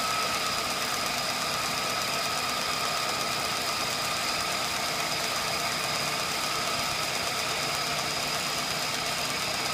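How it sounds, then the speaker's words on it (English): A grinding wheel on a small grinding machine for tiny workpieces being dressed, a continuous dense whirring and grinding hum with a steady high whine, loud and unchanging for the whole stretch, with no talking. "And dress across your grinding wheel."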